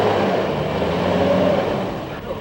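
1991 SUVs, including a Jeep, grind through a deep mud hole in turn: a loud, steady engine drone with strained revving that swells midway and eases toward the end, heard alone without talk.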